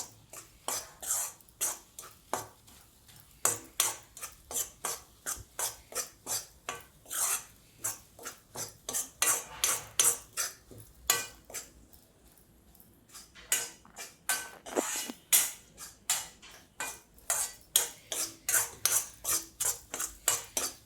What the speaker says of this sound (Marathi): याला सारखं हलवून आपल्याला याला चांगलं बदामी कलर येईपर्यंत बेसन चांगलं भाजून घ्यायचं आहे